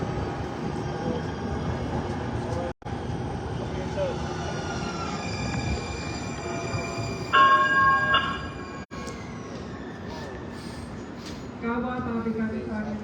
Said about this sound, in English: A northbound line train to downtown Minneapolis is arriving on track number 1.